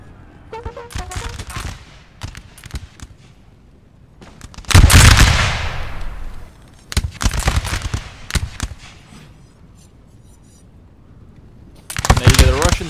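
Musket volleys and artillery fire crackle and boom in a Napoleon: Total War battle at Friedland, coming in loud, dense bursts with quieter gaps between them while someone talks over the fighting.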